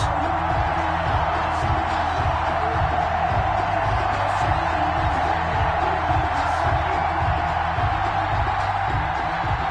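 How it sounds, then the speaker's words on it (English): Stadium crowd in an American football video game before a Bengals versus Ravens kickoff, a steady dense roar of crowd noise with a repeating low rhythmic pulse underneath and no break throughout. "This crowd is ready as their guys get set to match up between the Cincinnati Bengals and the Baltimore Ravens."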